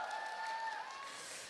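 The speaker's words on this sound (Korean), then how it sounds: "여러분 박수 부탁드려요." Brief round of audience clapping at a K-pop mini album showcase, fairly faint and steady with a faint tonal hum running beneath.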